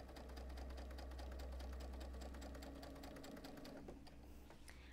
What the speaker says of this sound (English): I just go ahead and sew them all one after another.